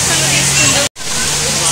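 A water feature flows at the entrance of the Khammam bus stand, a steady loud rushing splash with a crowd murmuring behind it and a very brief cut in the middle.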